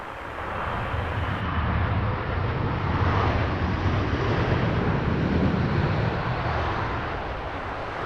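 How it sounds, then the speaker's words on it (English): A British Airways A350-1000 lands at Heathrow, a broad, steady engine roar with gusty wind rumble that rises slightly and then eases off over the clip. "Beautifully sunlit British Airways A350 1000 about to touch ground."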